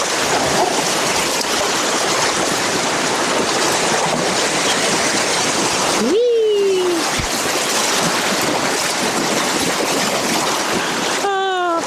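River waves and rushing water roar loudly around a boat. The churning surf is constant and close, with a brief squeal-like sound near the middle and another near the end.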